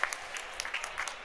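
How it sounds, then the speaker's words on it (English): A crowd at a broomball game claps steadily at a moderate distance, a brief even patter of applause with no voices standing out. "The crowd shows their appreciation."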